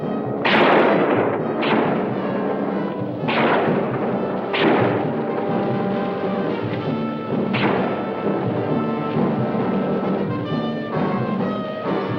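Gunfire and explosions from a Roger Corman ski troop war film: a handful of loud, booming blasts, each with a short decaying tail, rise over a continuous tonal, music-like background. No talking is heard.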